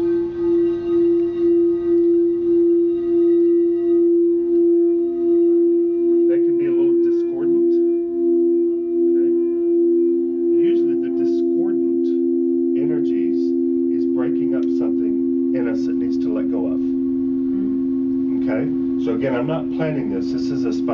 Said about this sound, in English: Sometimes when I play two bowls, they'll be in harmony, so it just creates a greater effect